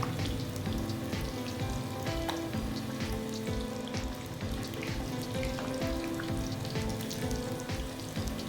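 Fish frying in hot oil at home, a dense continuous crackling sizzle with rapid popping held close and steady throughout, no talking.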